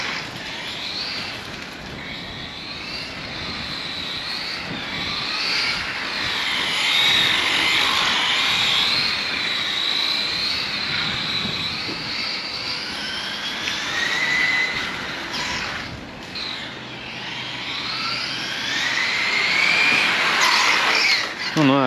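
Hong Nor X3 GTSe radio-controlled car on cold tyres, its high-pitched motor whining steadily and rising and falling as it slides around, a continuous buzzing tone with no talking.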